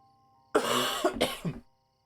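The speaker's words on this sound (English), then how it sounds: "This cough just never goes away, it just lingers." A single harsh cough bursts out, then a second rougher cough and a throaty rasp, close up in a quiet room.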